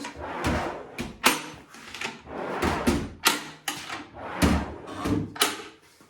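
Wooden van bed-bench drawers slide and thump repeatedly, a series of wooden scrapes and knocks at close range with short gaps between them.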